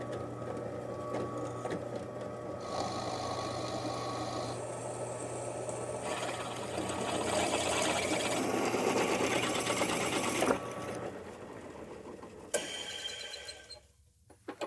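A power drill bores holes in steel legs for a DIY edge sander, giving a steady, close mechanical whir with a rhythmic rattle that grows louder and harsher midway, then cuts off near the end.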